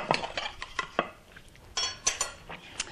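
A metal knife runs around the edge of homemade peppermint marshmallows in a pan, making close scraping strokes and sharp clinks against the pan in an irregular sequence. Nobody speaks.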